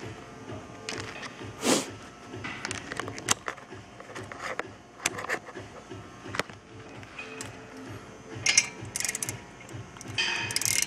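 Bolts being tightened into a brake rotor on a 2011 Scion tC to push it off the hub, heard as irregular metallic ratcheting clicks and clanks at close range.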